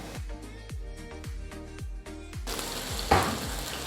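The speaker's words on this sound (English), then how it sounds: "you have to make sure your pan is extremely hot so you can get an even sear as you place it in the first moment" Marinated steak laid skin side down in an extremely hot pan, a bright hiss of searing bursting up after a run of rhythmic beats beneath, close and moderately loud.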